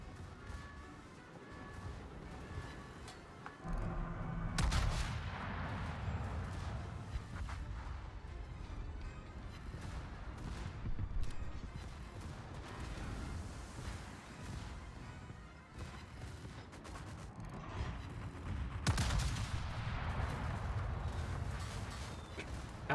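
Naval gunfire from battleships in World of Warships, heavy booming salvos at intervals over a continuous rumbling battle din, with a couple of louder blasts standing out.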